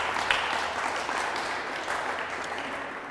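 A church congregation claps strongly for the Lord during a Spanish-language sermon, a thick wash of steady applause filling the hall throughout.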